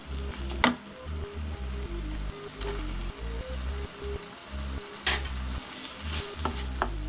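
Fried egg pieces stirred into a hot pan with spicy seasoning for an egg bread snack: close, steady sizzling with repeated scraping strokes of a spatula and a few sharper knocks against the pan, no talking.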